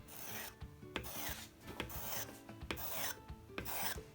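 A Grizzly 10 inch spokeshave pushes along a piece of maple clamped in a vise, making a steady series of close, dry rasping shaving strokes, roughly one every half second, with no talking.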